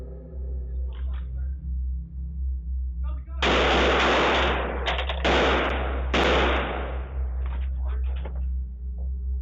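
Several gunshots ring out in a residential neighborhood in Harrisburg as captured by a doorbell camera, a loud sustained burst of rapid fire split into three or four close volleys over several seconds, following a quieter stretch of faint voices.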